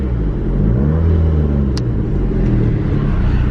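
A Volkswagen Mk4 GTI engine starts up and settles into a loud, steady low rumble close by, with a brief rise in revs early on and a small click partway through.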